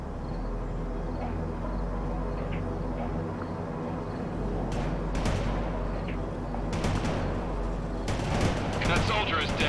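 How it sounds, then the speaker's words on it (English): A Bradley vehicle firing in World in Conflict, repeated sharp cannon shots and bursts in the second half over a steady low engine drone, with a voice speaking alongside. "Bradley firing from position."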